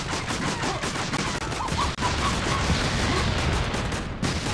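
Sustained rapid gunfire and explosions fill the shooter game Serious Sam: Double D XXL, a dense continuous barrage with sharp cracks and booms, loud and close throughout.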